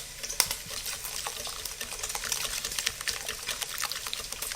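Hot pasta water is poured slowly into a carbonara egg mixture, a soft steady trickle with faint clinks, close and quiet, with no talk.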